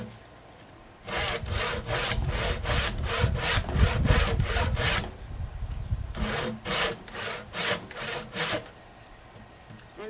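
A hand saw cuts into a timber beam along a chalk line for a timber-frame joint, its rhythmic back-and-forth strokes loud and close, in two bursts of steady sawing separated by a short pause.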